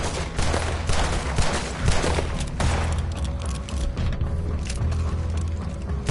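Sustained gunfire in the Western action game Red Dead Redemption 2, a dense run of overlapping shots and rumbling blasts, close and loud throughout.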